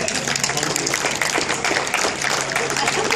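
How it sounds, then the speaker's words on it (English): An audience at a marketing conference claps steadily and fairly loudly for a speaker, a dense continuous patter with a murmur of voices beneath. "give that a round of applause"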